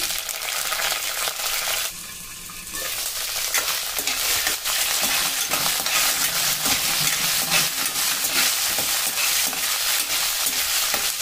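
Green chilli pieces frying in a pan with urad dal for a ridge gourd tomato chutney, a loud continuous sizzle with scraping stirs and a brief dip in the middle, no voices.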